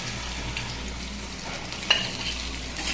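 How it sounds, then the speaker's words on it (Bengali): Chopped taro (kochu) with chili fries in a pan, giving a steady, close sizzle with light stirring scrapes and one brief clack. No one talks. "এখন এটাকে একটু ভালো করে ভেজে নেব"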